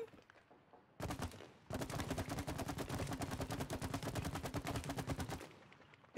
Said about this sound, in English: I'm trying to shoot it in the bucket and make it heavier.